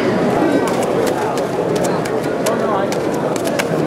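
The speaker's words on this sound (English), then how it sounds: "Modina is certainly trying to court the pigeon on the other side." Modena pigeons coo softly in a busy pigeon show hall, steady crowd murmur underneath and someone talking over them throughout.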